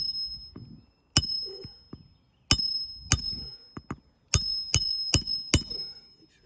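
Sharp metallic hammer strikes driving a nail flush, several spaced blows then a quicker run of hits, each ringing briefly with a high tone, close and loud.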